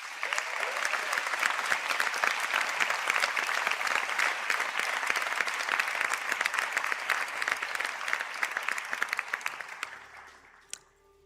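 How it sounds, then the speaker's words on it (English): An audience applauds graduates of mental health nursing and nursing studies at a conferring ceremony, a dense steady roar of many hands clapping that holds for about ten seconds and then fades out. "round of applause."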